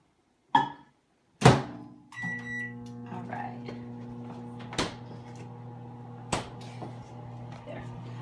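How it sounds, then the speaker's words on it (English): A microwave oven door thunks shut and beeps sound, then the microwave runs on high, humming steadily, with a few sharp knocks and clicks breaking over the drone. "So I'm going to put it in the microwave at high for 1 minute."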